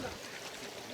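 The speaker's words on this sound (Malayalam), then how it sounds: "ഈ അരുവി ഡാമിലോട്ട് പോകുന്നതാണ്." A clear forest stream in the Vazhachal forest runs toward a dam, giving a soft, faint burble of flowing water across a short moment, with no one talking.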